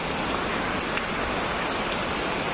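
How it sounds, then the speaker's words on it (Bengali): Heavy rain pours during a village storm, a dense, steady, close hiss of drops on surfaces with no voices. "এখনো বৃষ্টি হইতাছে"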